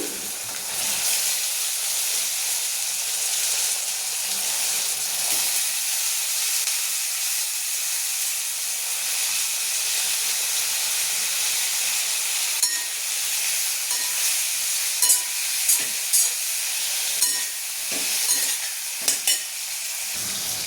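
Eggplant fries in a pan with salt and turmeric, giving a steady, close sizzle and hiss, with scraping stirring strokes and light clatter toward the end.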